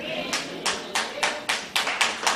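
A church audience claps for the Lord in sharp, evenly spaced bursts, about eight crisp claps in a steady rhythm, close and fairly loud.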